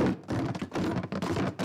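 Numbered wooden blocks rattle and knock inside a box being shaken vigorously, a rapid series of loud hollow clatters and thuds in quick bursts.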